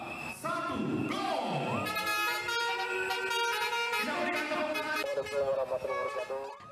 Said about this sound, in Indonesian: bus KPK ini mengeluarkan bunyi telolet atau basuri, bunyi klakson bernada